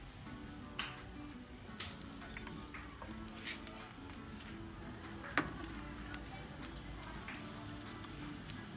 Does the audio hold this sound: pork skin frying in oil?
yes